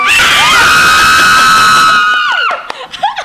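A crowd screams together loudly and continuously for over two seconds, then breaks off into scattered shouts and whoops.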